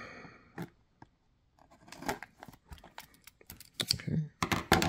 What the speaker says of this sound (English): opening up these packs with a pair of scissors because the English packs are tough to open